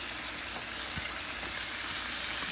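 Raw onion sizzling in a pan of mutton curry with potatoes, a constant loud hiss of frying with no talking.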